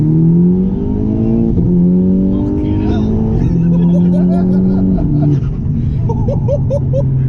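VW Golf R MK6 Stage 3 tuned to about 450 bhp, engine heard from inside as it accelerates hard, loud rising revs stepping up through gear changes, with a brief excited voice over it.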